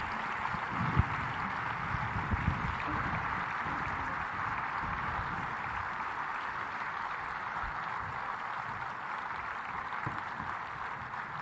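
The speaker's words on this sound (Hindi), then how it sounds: "हम खड़े होकर के एक बार आपका स्वागत और अभिनंदन करेंगे भरपूर तालियों से" An audience at a kindness and compassion event in Talkatora Stadium, New Delhi, stands and applauds the Lok Sabha Speaker's arrival. The clapping is steady and sustained, a broad wash of many hands that holds for the whole stretch.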